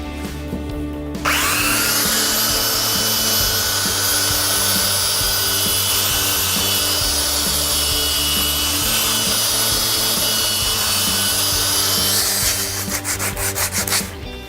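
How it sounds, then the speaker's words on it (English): Electric sander running steadily on the edges of pallet timber for a bench, a loud continuous whine with a grinding rub from start to finish, with a brief pause near the end. "The best way is by using an electric sander."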